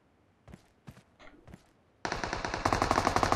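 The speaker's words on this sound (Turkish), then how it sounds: "Genel çatışma var" Automatic gunfire in a firefight in PUBG Mobile: a few scattered distant shots, then a dense, loud rapid burst of machine-gun fire that continues to the end, with no talking.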